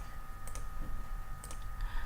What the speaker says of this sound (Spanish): Aquí vamos dándole doble clic.